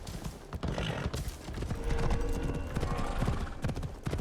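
Horse hooves clip-clopping at a gallop in Assassin's Creed Shadows, a steady thudding rhythm with a brief whinny, set against game ambience and music throughout.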